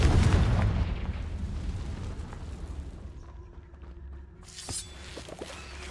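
A Confringo spell explodes in Hogwarts Legacy as a loud, booming fiery blast that rumbles and fades, followed by crackling debris and smaller pops.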